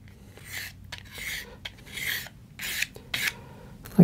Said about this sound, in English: I'm just rolling it and twisting it at the same time as I'm dragging it across the paper.